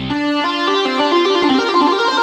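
A loud, heavy distorted synthesizer tone sustains with a thick, buzzing texture as the pitch shifts slightly across a short phrase.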